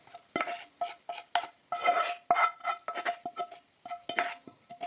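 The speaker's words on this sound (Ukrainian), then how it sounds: "І все добре перемішую" A spoon stirring cabbage mixed with fried onion and oil in a pot, with irregular close scraping and clinking taps at an uneven rhythm and no voices.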